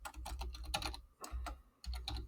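Code being typed on a computer keyboard during a Python programming exercise: bursts of quick, close keystrokes with short pauses between runs and no talking.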